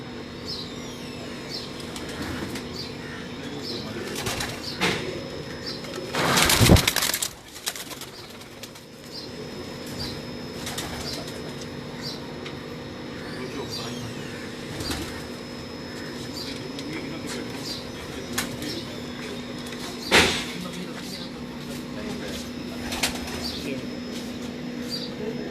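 Pigeons of a 90-year-old breed gather on a rooftop loft, with a burst of close wing flapping and scattered soft coos and chirps over a steady background hum. A few brief clicks and rustles follow.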